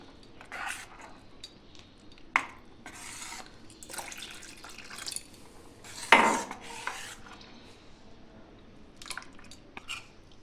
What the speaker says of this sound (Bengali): একটু করে জল দিয়ে দিয়ে আমি ব্যাটারটা পাতলা করে নেব।